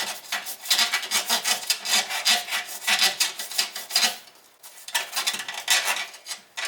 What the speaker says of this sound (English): I'm using a nylon bristle brush.